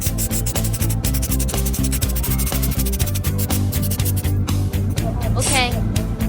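Sludge is scrubbed and wiped off a car part with detergent: a continuous, close rubbing and scraping over a steady tonal background with voices.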